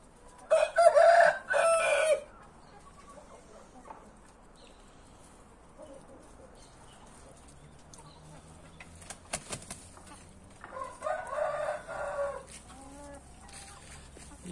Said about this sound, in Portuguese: É um galo maravilhoso.